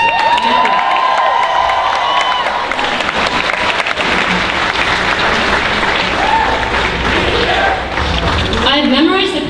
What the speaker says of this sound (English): I just want to give a huge round of applause to Sena and everyone from Sunrise, Connecticut.